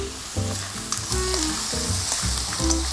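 Mussels stir-frying in a pan for a seafood tomato sauce give a close, steady sizzle with bursts of stirring and scraping, heard alone without talk.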